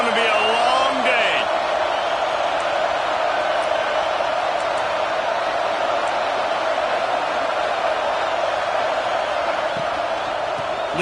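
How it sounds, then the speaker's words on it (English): A stadium crowd at a college football game roars in a continuous loud wall of cheering, with a commentator talking over it. "This crowd, full throat, splitting the eardrums"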